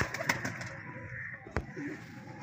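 A pigeon coos softly nearby, a few low rolling coos with light fluttering or handling noise, fairly quiet with no talk over it.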